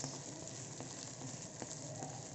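Uttapam sizzling in ghee on a hot pan, a steady close frying hiss with faint crackles, no talking.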